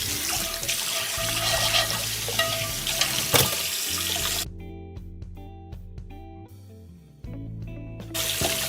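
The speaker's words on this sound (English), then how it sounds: "Once you've got it all scrubbed, then you just have to give it a good rinse." Tap water runs steadily into a sink while a scrubbed pan is rinsed beneath it, a loud close rushing splash that briefly drops to a quieter trickle and clatter midway before the full stream returns.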